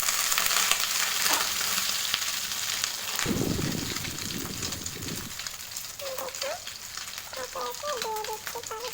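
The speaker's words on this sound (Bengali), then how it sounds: "ব্রেড পাউরুটি ভিজিয়ে আমি এটা প্যানে দিয়ে দিচ্ছি" Bread slices soaked in egg and milk batter frying in a pan, a dense steady sizzle with a brief louder crackling surge when a slice goes in, and a voice speaking faintly near the end.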